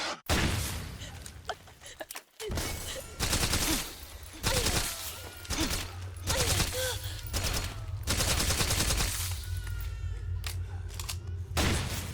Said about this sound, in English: I'm gonna shoot this lady.